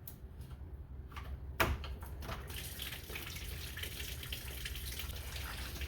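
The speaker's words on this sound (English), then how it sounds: "if you want to speed up the draining of the radiator, here's our cap, and just pop it off. And then you'll hear how much faster it drains." Coolant drains with the cap off from the radiator of a 2009–2013 Honda Fit. The flow gives a steady close trickle and splash that runs on continuously after a brief clatter, with no talk.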